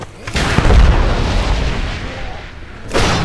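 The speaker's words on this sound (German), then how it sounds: "Ich habe schon wieder eine Kanonenkugel, also so ein Inferno-Geschoss, wie es so schön heißt." A cannon fires in the game World of Warcraft: Warlords of Draenor, an inferno shell launched with a heavy boom and a rumbling burst that trails off, followed by a second, sharper blast near the end.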